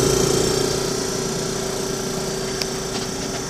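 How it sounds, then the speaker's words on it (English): The compressor of a 1955 General Electric window air conditioner runs close by with a steady, droning hum and rattly vibration, easing slightly in loudness over a few seconds. "The compressor's over here."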